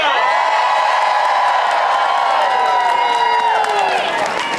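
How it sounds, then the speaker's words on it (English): A rally crowd erupts in loud cheering, with whoops, yells and some clapping blending into a dense, continuous roar that fades slightly at the end. "I want a big cheer at the end"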